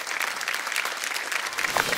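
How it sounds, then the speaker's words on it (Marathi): A studio audience on a Marathi TV game show bursts into dense, lively applause that continues steadily for the whole moment, with no speech over it. "एकदा जोरदार टाळ्या होऊन जाऊ दे"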